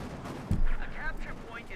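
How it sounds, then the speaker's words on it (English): A StuG assault gun fires in Company of Heroes 2, one heavy boom followed by rumbling battle noise, with a voice talking over it. "Stug going in there, guns blazing once more"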